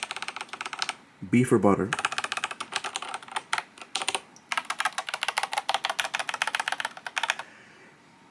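An IQUNIX Wormhole OG 80 mechanical keyboard clacks under fast, steady bursts of close typing, with brief pauses between runs and a short spoken phrase near the start.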